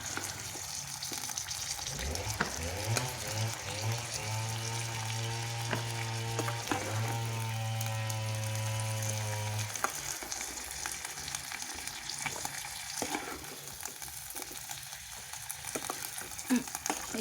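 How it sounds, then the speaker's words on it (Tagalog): Garlic and onion sauté in oil on an electric stove for pancit bihon, with a loud continuous sizzle and spatter nearby. A tonal hum rises and holds through the middle, and there is no speech. "Igigisa. Pero may bawang sibuyas yan."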